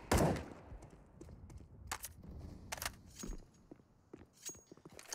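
Desert Eagle pistols fire during a Counter-Strike: GO pro match on the Nuke map, with sharp, separate gunshots spread through the clip over faint footsteps and rattling gear.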